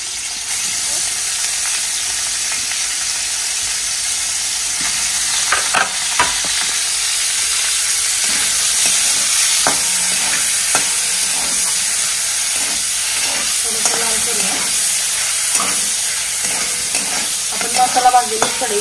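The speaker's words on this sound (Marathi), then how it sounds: "तोपर्यंत आपण पनीर फ्राय करून घेऊया" Paneer frying in a pan, a continuous loud sizzle and hiss with occasional stirring scrapes and small pops throughout, no talking over it.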